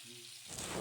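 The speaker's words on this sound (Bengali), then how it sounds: "আমি এখানে পেঁয়াজগুলো ভালোভাবে ভেজে নিব কিছুক্ষণ" Onions drop into hot white oil in a pan and burst into a loud, crackling sizzle that starts abruptly after a brief quiet moment.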